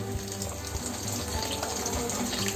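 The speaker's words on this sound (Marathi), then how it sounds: "आता आपण थोडंसं पाणी घालून" Water poured into a simmering butter chicken gravy in a home kitchen, a steady close splashing trickle with a faint sizzle, running continuously with no voices.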